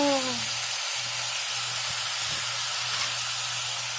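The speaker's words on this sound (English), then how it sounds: "Adding my cabbage and carrots to the pot" Cabbage and carrots dropped into a hot pot give off a steady, moderately loud hiss that holds evenly with no voices over it.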